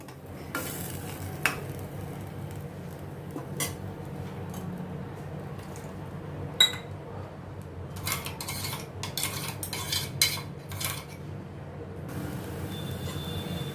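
Spices sizzle in a pan with onion and tomato puree for a lotus stem curry, a spoon scraping and clinking against the metal in irregular bursts over a continuous frying hiss.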